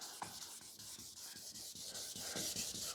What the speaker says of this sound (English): put your elbow grease into it and bear down on the sandpaper